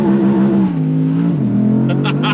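A 2022 Audi R8 RWD Performance Coupé on the move, its engine droning loud and close as a steady harmonic hum that dips in pitch during a gear change, with a voice speaking over it.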